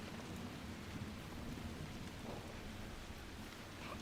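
Rain in the video game Dragon Age: Inquisition, in the Crestwood area, a faint but steady hissing downpour with a low rumble beneath it, continuous throughout with no voices.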